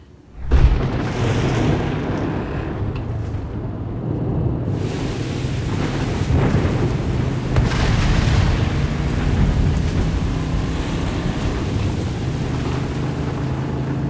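Heavy rain pours steadily through a roadside stop in Colombia after a sudden crack of thunder, then a loud continuous downpour hiss with rumbling, no voices.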